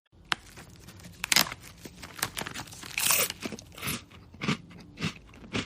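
Someone bites and chews the last cookie, irregular close crunches and crumbly chewing bursts spaced over a few seconds in an otherwise quiet room.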